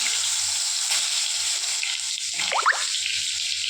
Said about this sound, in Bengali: এই যে পটল পুরো এবার ভেজে নেবো, হলুদ আর নুন দিয়ে মাখিয়ে রেখেছি, এবার ভেজে নেবো ভালো মতো।